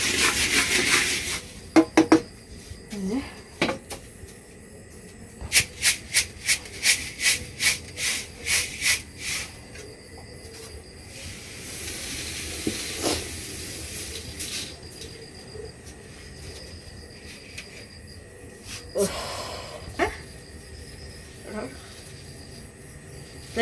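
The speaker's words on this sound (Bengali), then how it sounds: "এই যে আমার শেষ আজকের মতো মুড়ি ভাজা" Puffed rice (muri) is roasted in a pan with rhythmic scraping and rubbing strokes, a quick run of regular rasps followed by looser stirring and scattered knocks, heard close by.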